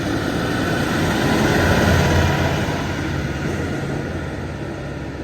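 A tractor engine running, a loud steady low rumble and drone that stays constant throughout, close by, with no speech.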